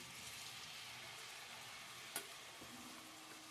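Paneer sizzles in a hot pan for palak paneer, a faint, steady crackle of frying broken by a single sharp utensil clink partway through.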